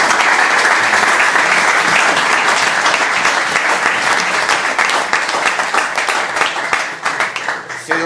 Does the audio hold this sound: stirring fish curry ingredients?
no